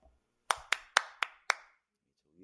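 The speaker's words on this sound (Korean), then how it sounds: "여러분 박수를 한번 크게 격려해 주시면" At a church revival gathering, five sharp, separate hand claps ring out in an even, slow rhythm in an otherwise quiet room, followed by a brief murmur.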